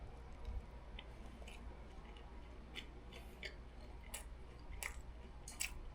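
Close, quiet chewing of gimbap filled with ham, carrot, egg and pickled radish, soft wet munching with scattered small crunchy clicks, no talking.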